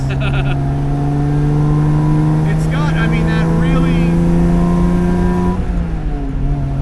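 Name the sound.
1958 AC Aceca coupe inline-six engine revving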